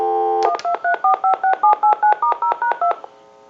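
A quick redial run of about a dozen DTMF keypad tones from a TA-954 military field telephone, evenly spaced, loud and clear over a steady dial tone that fades out after the dialing.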